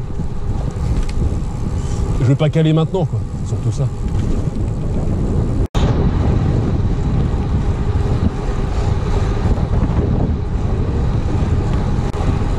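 Loud, constant wind noise batters the microphone on a road cycling event in the Drôme Provençale, with someone speaking briefly over the rushing roar and a sharp click partway through.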